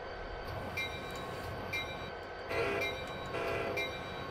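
A Metra locomotive in the train simulator game Train Sim Classic, a steady low engine rumble with rail noise underneath and occasional faint high tonal squeals and brief brighter bursts, fairly quiet and continuous.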